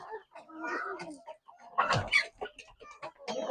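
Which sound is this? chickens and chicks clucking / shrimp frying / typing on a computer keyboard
chickens and chicks clucking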